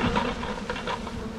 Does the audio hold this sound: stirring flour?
no